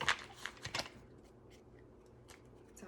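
A tarot card deck being shuffled: a few quick papery riffling bursts up front, then a faint, steady rustle that fades to near quiet.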